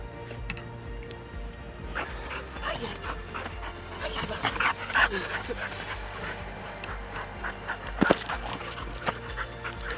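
Dogs pant steadily up close, with scattered yips, whimpers and a few short barks over ten seconds, and people talking faintly in the background.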